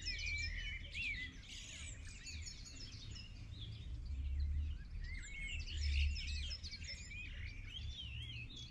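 Small birds chirp and tweet near an outdoor fishing spot, a series of quick high calls scattered over soft background noise, moderately distant and without talk.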